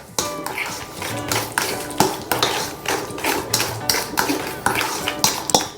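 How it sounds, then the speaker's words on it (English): Fork clinks and scrapes against a bowl as vanilla is mixed into banana fritter batter, a quick repeated tapping rhythm, close and moderately loud, with no voice over it. "you can either whisk it or you mix it up with your fork"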